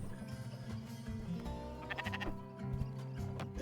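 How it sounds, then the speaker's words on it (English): A sheep bleats in the video game Spiritfarer, a wavering cry set over a steady game music bed, moderately loud and close with no talk during it. "Here, also a sheep."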